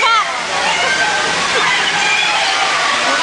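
Water floods loudly across the set of the Universal Studios earthquake ride, a continuous gushing and sloshing roar that stays close and heavy throughout, with voices partly buried beneath it.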